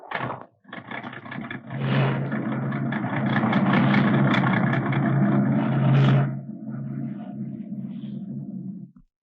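A car engine idles with a low, steady rumble that swells as it revs for a few seconds, then settles back to a quieter idle, heard close with no talking.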